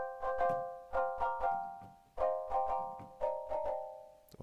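LordOfTheSprings synth with its bowing mechanism, the tone shaped by the mod wheel: rhythmic bowed pulses of sustained pitch in groups, swelling and decaying, clear and without voices.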